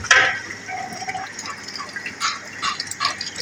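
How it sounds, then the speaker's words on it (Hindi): A large batch of chicken, about 8 kg, goes into wet karahi masala: a close, wet splash followed by soft bubbling and dripping liquid sounds. "अब इसमें मैं डालूँगा चिकन"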